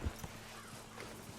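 Horse hooves clip-clop at a steady walking pace in the video game Red Dead Redemption 2, soft and fairly quiet over a low background hum.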